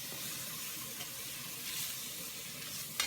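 Pork cooking in a pan for a Chinese-style braise, a steady faint hissing sizzle that continues evenly throughout, close but quiet, with no talking.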